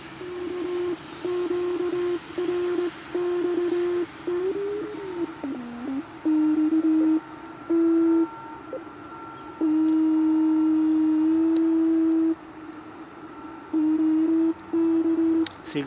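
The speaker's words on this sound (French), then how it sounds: "C'est grave, hein," Low steady radio tone heard during a long-wire antenna test on a plateau, coming in repeated on-off bursts of varying length with brief pitch wavers between them.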